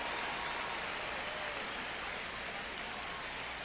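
Stadium crowd noise from the MLB The Show 25 baseball video game: a continuous, dense roar of cheering and applause-like hiss holds at a steady level throughout.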